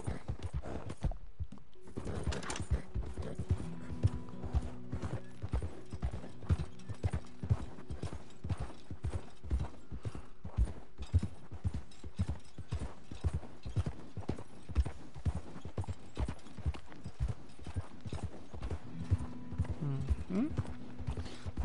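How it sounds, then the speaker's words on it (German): Steady clip-clop of horse hooves as a rider moves along in a cowboy video game, a continuous even rhythm with a creaking mechanical rattle beneath and a brief low tone near the end. "Dann reiten wir mal hier weiter."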